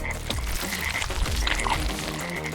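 A frog croaking in a spooky fantasy tale, a close, loud, irregular run of throaty croaks over a dense wet background, with no voices.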